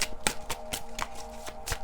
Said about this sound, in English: I'm going to keep shuffling till I get one more